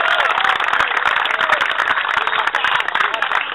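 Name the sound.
applause for the champion club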